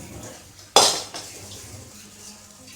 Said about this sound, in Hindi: मैं कढ़ाई उतार के इधर रख देती हूँ।